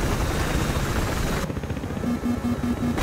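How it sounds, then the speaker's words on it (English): A video game helicopter's rotor thumps and engine drone, loud and close, in Battlefield Hardline, with a steady beeping tone joining partway through. "This is a chopper."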